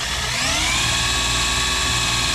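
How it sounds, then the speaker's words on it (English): A small 12-volt Bosch drill whines steadily and loudly, cutting a 1 3/4 inch hole in acrylic, its high-pitched motor tone rising slightly as it bites into the hard plastic. "we'll go ahead, use this drill on this acrylic."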